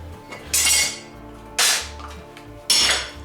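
Three sharp hammer blows strike a metal exhaust baffle on a workbench, spaced about a second apart, each a bright clanging impact with a short ringing decay.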